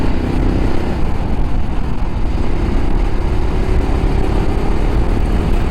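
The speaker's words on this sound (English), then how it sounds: "I still like to have a little bit of bike noise" A motorcycle engine drones steadily while riding, a loud, continuous low rumble with wind-like noise and no distinct changes or voices.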